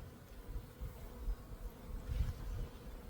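Low, soft droning of honeybees in a small, newly started backyard apiary hive, a continuous close hum that rises and falls gently over a few seconds without any talking.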